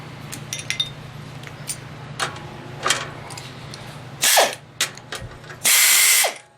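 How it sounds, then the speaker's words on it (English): A ratchet wrench tightens the main bolts on a Typhoon Tilter wind turbine: light metallic clicks and handling at first, then two louder, longer bursts of ratcheting close by. "we're going to do the final tightening of the main bolts"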